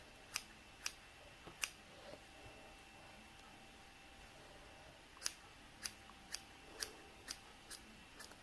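Scissors snipping the layers of a needle-felted woodland fairy, about a dozen sharp, close clicks spaced irregularly, some in quick runs, over a quiet room hum.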